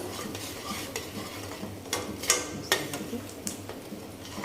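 Boiled potatoes with yogurt and salt are roasted and stirred in a pan for dhaba-style dum aloo, with a spoon clinking and scraping against the metal in repeated strokes over a soft sizzle, close by and without speech.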